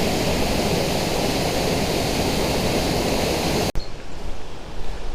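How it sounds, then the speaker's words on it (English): Summerhill waterfall (Low Force area walk) roaring as a broad, steady rush of falling water, loud and continuous, then abruptly cut off near the end, leaving only soft outdoor ambience and faint rustling. "Ahead of us now we can certainly hear Summerfield waterfall, and here ahead of us is the waterfall itself."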